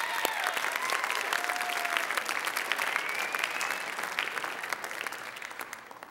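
A studio audience applauds a contestant named Ben, steady dense clapping for about six seconds with a few whoops and cheers mixed in, gradually tapering.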